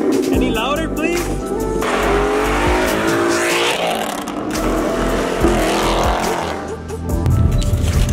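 A Roush Mustang GT engine roars loudly with hard revving and tire squeal, a sweeping rise in pitch, while voices talk over it.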